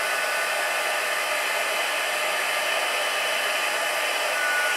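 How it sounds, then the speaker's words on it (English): A heat tool blowing steadily to melt gold heat embossing powder, a constant close, loud hot-air whoosh like a hair dryer, unbroken for the whole stretch with no talking. "we just simply need to heat this lovely gold heat embossing up"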